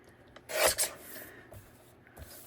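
Paper being trimmed for a scrapbook layout, one short rasping swipe of the cut followed by faint scrapes and rustles, close and quiet with no talk.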